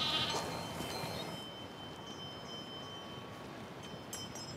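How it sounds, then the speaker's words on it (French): About sixty sheep on a Jura farm bleat in a close, busy cluster of overlapping calls that is loudest at the start and settles into a steady background murmur of bleats with no talk. "J'ai environ 60 moutons."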